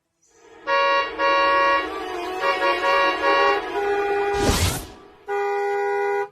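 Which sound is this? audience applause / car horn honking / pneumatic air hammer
car horn honking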